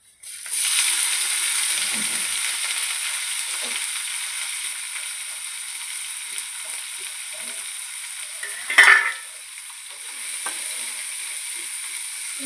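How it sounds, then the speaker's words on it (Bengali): Dried fish fries in hot oil with a steady, bright sizzle that holds for many seconds, close and fairly loud, with a brief sharp utensil clatter partway through. "তেলটা গরম হয়ে গেলে এবার আমি মাছটা তুলে দেবো।"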